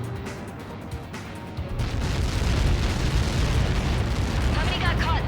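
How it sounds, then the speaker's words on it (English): A massive explosion as Helios projectiles strike an impact zone, a deep sustained rumbling roar that swells after a second and keeps thundering loudly to the end, with voices underneath. "How many got caught in that explosion?"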